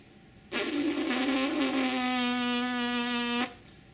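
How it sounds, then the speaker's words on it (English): A steady, sustained lip buzz of a euphonium player's embouchure, a single tone with strong harmonics lasting about three seconds, close and fairly loud, no talking. "and then buzz in the center."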